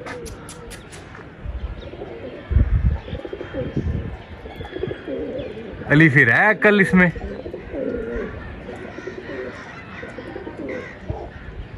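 Sialkoti pigeons coo in low, rolling bursts alongside chirps, with people talking nearby throughout and a louder cluster of calls midway.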